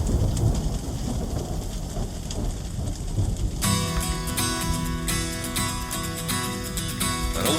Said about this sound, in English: That's really a Kansas storm.